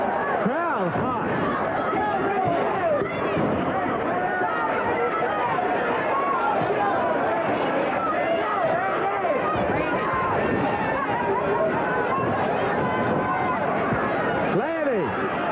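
Loud, steady crowd roar and chatter fills a CWA wrestling arena throughout, with cheering swells rising and falling and no clear individual voices standing out.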